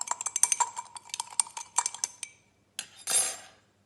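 Sand and iron filings stirred together in a glass beaker give a run of quick, bright clinks and scrapes for about two seconds, then a pause and a short louder rattling swirl, close and alone without any talking.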